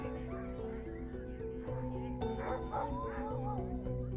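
Alaskan sled dogs of mixed breed bark and yip in a lively chorus, with whimpering and overlapping calls, close and fairly loud against a tonal background.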